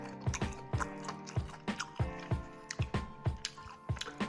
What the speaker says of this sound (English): Little crisp and crunch from the lettuce.